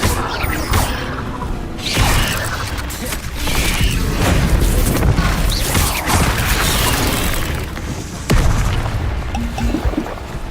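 Confringo explosive spell blasts in Hogwarts Legacy on PC, a string of loud whooshing bursts and booms that come back again and again in a busy, clashing fight.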